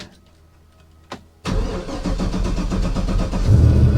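An old Kia Forte car cranks briefly after a short click, then its engine catches and settles into a loud, steady running rumble that rises slightly toward the end, heard close up indoors in a shop.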